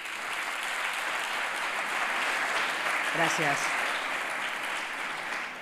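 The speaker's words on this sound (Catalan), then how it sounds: "Un aplaudiment per ella, per favor." A hall audience at a local journalism awards ceremony gives loud, sustained applause throughout, and a brief voice speaks over the clapping midway.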